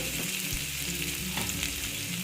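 Pabda fish frying slowly in a pan for a mustard-poppy seed dish, giving a steady, close sizzle of hot oil with faint low crackles throughout.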